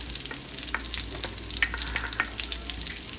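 Chopped onion and crushed garlic fry in melted butter while a spoon stirs them, giving a steady close sizzle broken by irregular scraping clicks against the pan, with no voices.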